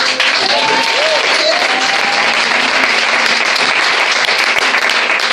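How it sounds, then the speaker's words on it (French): Loud, dense applause from a congregation at a prophetic gathering in Côte d'Ivoire, continuous close clapping with a few shouted voices mixed in. "Acclamons pour sa vie encore."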